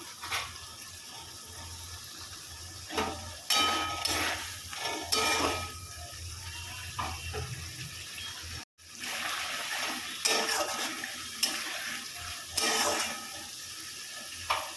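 Prawns frying in a pan for a wedding-style Bengali prawn curry, a soft sizzle under repeated scraping stirs and clinks of a spoon against the pan, briefly cut off midway.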